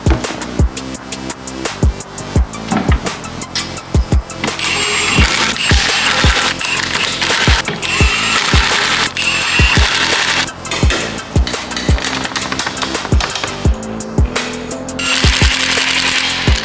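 Power tools rattle and buzz in short bursts and longer runs, with sharp clicks and impacts spaced irregularly while OEM wheels are fitted onto a car, close and fairly loud, with no talk.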